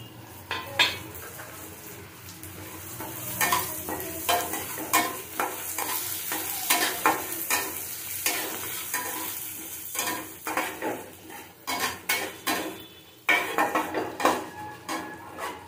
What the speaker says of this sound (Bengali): মুগ ডালটা ভেজে নেব